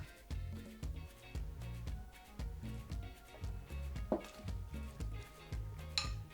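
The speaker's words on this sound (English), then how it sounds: "I'd like to clean off the spoon just like this." A spoon is scraped and tapped against a container while mixing Jamaican jerk seasoning, giving close, repeated clinks and scrapes in a steady rhythm, with a couple of sharper knocks near the end.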